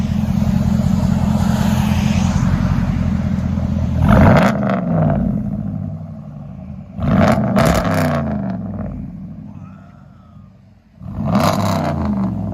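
A 2021 RAM 1500 Big Horn pickup's 5.7L HEMI V8 idles with a loud rumbling true dual straight-pipe exhaust, then revs hard three times, each rev rising sharply and falling back to idle.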